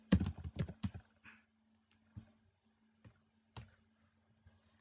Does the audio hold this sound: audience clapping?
no